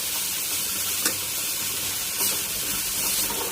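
Masala ingredients roast in a pan for a nati-style chicken sambar, giving a continuous close sizzling hiss with faint stirring scrapes and small crackles throughout.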